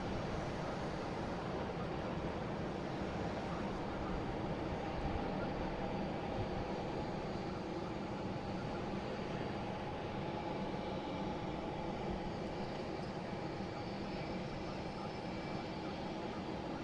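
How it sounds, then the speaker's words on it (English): JetBlue Airbus A321neo jet airliner, flight 331, at Boston Logan International Airport, a steady distant broadband roar of jet engines with no talk. "Now we got JetBlue, the A321 Neo, flight 331. Should be rolling out here pretty soon."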